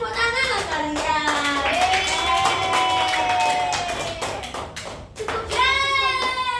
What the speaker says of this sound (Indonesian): Tepuk tangan lah kalian.